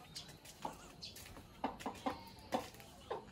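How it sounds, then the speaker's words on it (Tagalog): A laying hen clucks nearby at home, a string of short, soft clucks in an uneven rhythm, quiet and close with no talking over it. "Ay, may manok oh."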